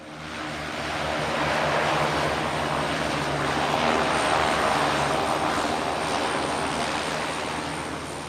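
A small light propeller aeroplane engine drones steadily at close range just after landing on a short island runway, rising slightly then easing off, with no talking.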